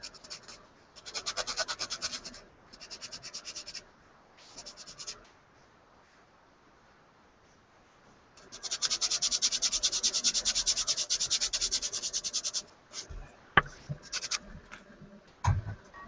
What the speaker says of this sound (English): continue on with sanding here